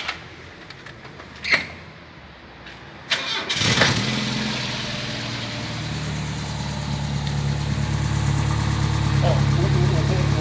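A Ford Corcel II car engine cranks briefly after a couple of clicks, catches and settles into a steady, even idle that continues close by and fairly loud to the end.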